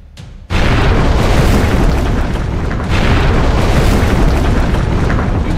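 Cannon fire from a fort in the game Black Skylands: a sudden loud boom gives way to a sustained roaring rumble of explosions that stays dense and heavy throughout.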